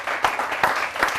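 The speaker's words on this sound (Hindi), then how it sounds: "एक बार जोरदार तालियां हो कमल आग्ने।" Brief burst of audience applause at a patriotic poetry recital, a dense wash of clapping lasting about a second.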